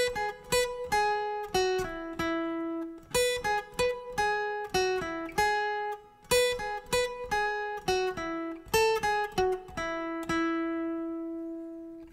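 A clean guitar plays a solo, plucked notes in quick runs and held tones, moderately quiet with no talking.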